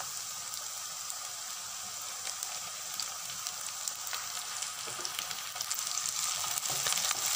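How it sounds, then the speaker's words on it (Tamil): Onions, green chillies and curry leaves sizzling in oil in a pan, a soft steady crackle, close and fairly quiet, with brief stirring sounds and no talk. "நல்லா வதக்கி வச்சுக்கோங்க."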